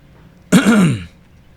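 A single harsh cough with a throaty, rasping tail, loud and close, rising out of near silence and fading quickly.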